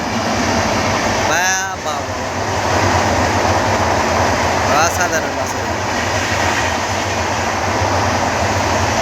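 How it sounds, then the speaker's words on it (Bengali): A long express train passes on the Howrah line at midday with a loud, continuous rumble and rail clatter. Voices talk over it at intervals. "এদিক থেকে আরেকটা ট্রেন আসছে আরেকটা এটা আজিমগঞ্জ দিকে যাচ্ছে মানে হাওড়া লাইনে"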